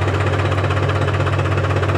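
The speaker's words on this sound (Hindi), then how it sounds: "जो आइडल RPM है वो इसके लगभग 500 से 600 RPM पर ट्रैक्टर आइडल रहता है।" A New Holland 551 tractor engine idles at roughly 500 to 600 RPM, a loud, close, steady low diesel throb with an even, smooth pulsing rhythm and no other sounds.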